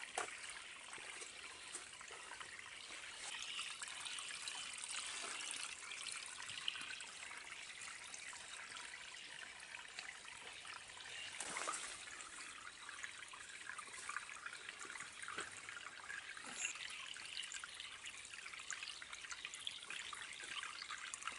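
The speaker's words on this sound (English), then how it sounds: "look at this water seeping out of the wall" Water seeps and trickles from a canyon wall, a faint, continuous light splashing and dripping heard close up with occasional brief louder spatters and no talk.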